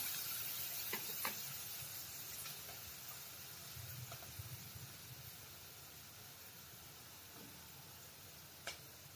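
Chopped green chillies fry in oil in a pan, giving a soft, steady sizzle with a few faint clicks of a spoon, fairly quiet and continuous throughout.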